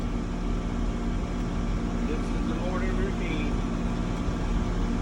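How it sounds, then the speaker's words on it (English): A loud, steady tractor engine drone fills the whole clip with a constant low rumble, close and unvarying, with faint sounds buried beneath it. "this tractor is so fucking loud"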